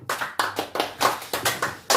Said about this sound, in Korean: 하나님께 영광의 박수로 영광 드리겠습니다